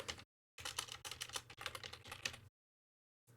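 Rapid clicking of keys typed on a computer keyboard in quick bursts, close and fairly quiet, separated by short pauses of silence, with no voices.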